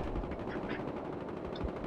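Rapid automatic gunfire crackles in quick bursts during a multiplayer match of the video game Battlefield Hardline, dense and fairly loud across the short stretch.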